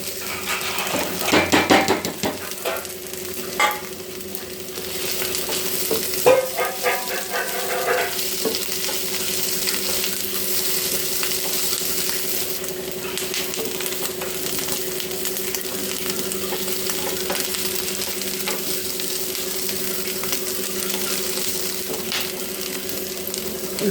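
Potatoes go into a hot pan for a spiced egg and potato fry, sizzling steadily while a utensil scrapes and clatters as they are stirred, with the most clatter near the start.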